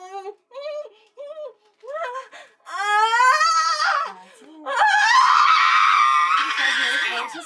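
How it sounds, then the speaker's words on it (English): A woman giving birth at home lets out strained cries and moans while pushing, starting with short broken vocalizations and swelling into loud, sustained shrill screams, with a brief pause between efforts. "it felt really nice to scream during those last two pushes there at the end, and you can hear it in the video"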